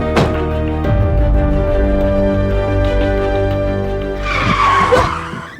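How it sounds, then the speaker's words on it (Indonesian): Car skidding and then struck in a crash, with a loud sustained engine and tire drone, a screeching squeal building near the end and an abrupt impact at the close. "Mobil kita ditabrak."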